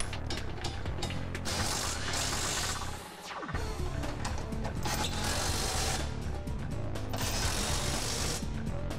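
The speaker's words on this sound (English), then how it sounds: "we'll go ahead and tighten them down" Ratchet tightening the fasteners of a Curt trailer hitch receiver on a 2011 Dodge Nitro: rapid, loud clicking in long continuous bursts, with one brief pause partway through.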